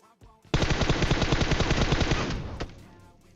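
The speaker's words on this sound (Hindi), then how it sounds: "गाड़ी से आते हैं, गाड़ी पे गोली गोली चलती है" A sustained burst of rapid automatic gunfire at a car in a video game rattles for about two seconds, loud and dense, preceded by a couple of brief thumps.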